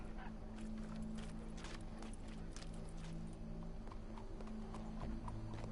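Horse hooves clip-clop in the video game Red Dead Redemption II, a steady run of quiet hoofbeats over a low constant background hum, with no talking.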